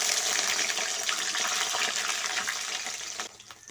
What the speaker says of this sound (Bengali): এখন আমি এই তেলের মধ্যে প্রথমে বেগুনটা দিয়ে ভেজে নিচ্ছি।